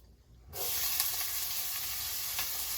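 Onions with cumin hit a hot pan for dal, bursting into a loud, steady sizzle after a brief quiet start, with a few sharp crackles near the end.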